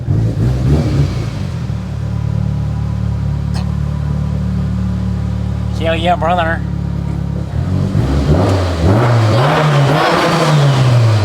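A Mitsubishi Lancer Evo 8 engine idles and then revs up loudly several times nearby, with a voice speaking briefly over it.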